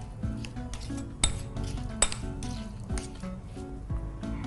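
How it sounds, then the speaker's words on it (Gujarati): Chopped capsicum, tomato and onion are stirred in a bowl with a spoon, giving soft, close clinks and scraping taps against the dish, with occasional sharper knocks. "મિક્સ કરી લઈશું"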